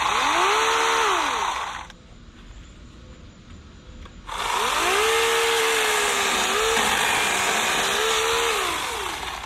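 A Teccpo 40-volt battery chainsaw whines loudly at full speed, cuts out for a couple of seconds, then spins back up to a steady high-pitched drone with slight pitch wobbles.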